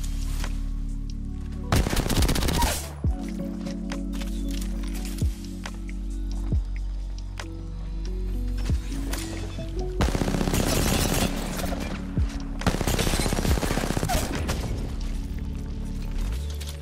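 Sustained automatic gunfire in Apex Legends, loud bursts lasting a second or two each, separated by shorter single shots and clatter, repeating several times across the fight.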